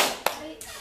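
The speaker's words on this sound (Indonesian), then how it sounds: "Tepuk tangan untuk Reja ya." Two sharp hand claps in quick succession, brief applause for Reja at a technopreneurship training podcast, fairly close in a quiet room.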